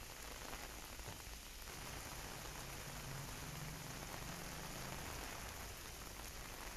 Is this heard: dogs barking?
no